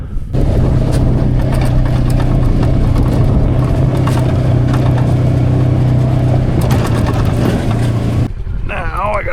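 A farm vehicle drives out across the fields toward an irrigation pivot, its engine a loud, steady rumble and drone heard close from inside for about eight seconds before cutting off, with a voice speaking over it.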